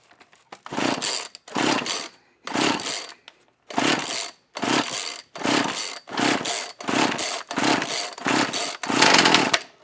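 A Husqvarna 36 chainsaw with the choke fully out gives about ten loud, close, sputtering bursts in a regular rhythm, each separated by a short silence.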